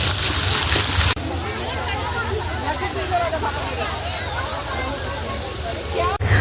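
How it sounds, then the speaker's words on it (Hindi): At Meghdoot Garden in Indore, an outdoor garden waterfall pours water into a pool below, making a continuous rushing, splashing wash with people's voices murmuring in the background. "यहाँ पर झरना बना हुआ है, नीचे पानी गिर रहा है"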